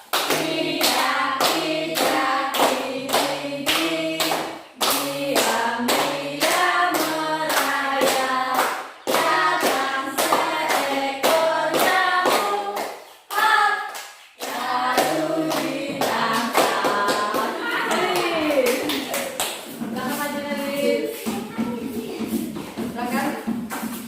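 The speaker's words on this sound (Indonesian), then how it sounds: "Sambil tepuk tangan ya." Steady rhythmic hand clapping from a classroom group keeps time beneath children singing together, loud and continuous with a couple of brief pauses.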